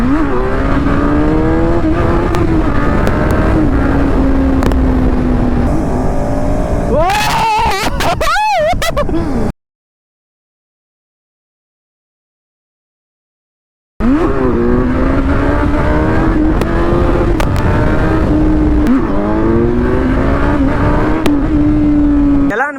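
An inline-four motorcycle engine revs hard and loud during a wheelie, its pitch climbing and holding high. The sound drops out for a few seconds and then returns with another sustained, roaring rev.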